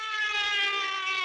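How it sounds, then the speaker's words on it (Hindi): A police siren in a Hindi film scene, a steady, loud sustained tone with no voices. "पुलिस का सायरन"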